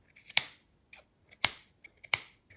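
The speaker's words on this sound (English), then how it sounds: "So I'm going to try to trim the shape a little bit." Scissors snip through a soft, fluffy yarn feather, three sharp close cuts spaced about a second apart with fainter small snips between.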